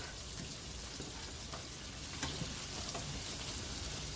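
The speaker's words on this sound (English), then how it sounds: "Back here I have the hash browns on. I'm going to go ahead and give them a flip." Hash browns fry in a pan as a dense, even, close sizzle that continues for a few seconds while they are flipped.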